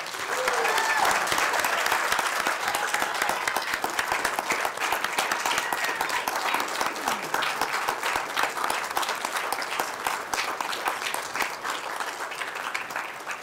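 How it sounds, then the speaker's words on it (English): Sustained applause from an audience at a county planning, zoning and board of commission meeting, a dense steady patter of many hands clapping in a hall, fading slightly toward the end. "So can we give her a round of applause real quick?"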